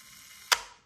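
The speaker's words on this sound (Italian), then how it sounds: "L'autoscatto si carica così, muovendolo da questa parte, e schiacciamo il pulsante di scatto." The self-timer on an Altissa Altix camera whirs briefly, ending in a sharp mechanical click and short fading rattle, close and isolated in a quiet room.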